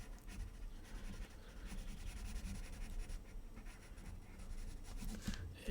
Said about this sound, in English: press a little bit harder if you're using a pencil